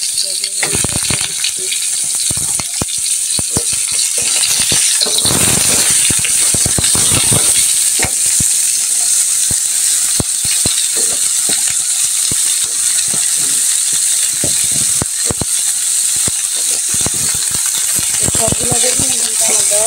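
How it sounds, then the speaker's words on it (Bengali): Potatoes and eggplants fry in a wok with a loud, continuous sizzle, broken by occasional scraping and clinking from stirring, with no voices. "সবগুলো বেগুন কিন্তু আমার দেওয়া হয়ে গেছে কড়াইতে।"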